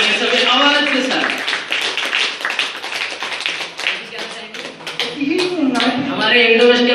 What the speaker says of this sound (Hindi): एक बार इनके लिए जोरदार तालियां बजाएंगे सभी आवाज के साथ